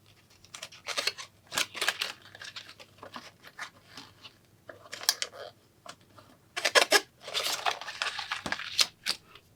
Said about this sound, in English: this is when I cut out the hole